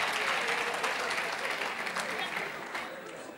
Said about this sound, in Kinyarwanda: Mwabihaye amashyi.